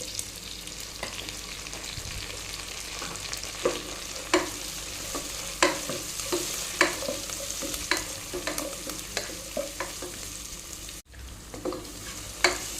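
Onion, ginger, curry leaves and two green chillies fry in a pan with a steady close sizzle, broken by regular sharp clicks and scrapes of a spatula stirring, and a brief dropout near the end.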